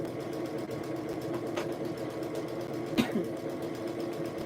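A sewing machine hums steadily through straight stitching on a tee, a continuous fairly quiet drone at even speed with a couple of faint clicks, and no voices.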